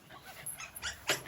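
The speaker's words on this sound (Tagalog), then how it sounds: "Itong aso" A dog whimpers and yips in short, thin, high cries, a few brief bursts rising over quiet background noise, close by.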